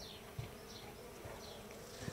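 Soft buzzing of bees around flowers drifts around, faint and close, wings humming in uneven swells as insects pass by, with no voices.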